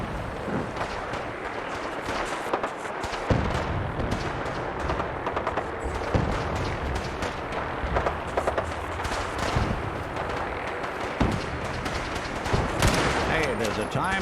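A Fallout 4 firefight: rapid overlapping gunshots and bursts of automatic fire crackle throughout at close range, with occasional louder single reports and some voices mixed in.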